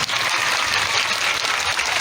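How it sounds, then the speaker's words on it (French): Schoolchildren applauding for their school director during a girls' primary school visit, a dense, steady wash of clapping that holds at an even level for the whole stretch, with no voices over it. "les enfants n'applaudissent pour le directeur, encore une fois de plus"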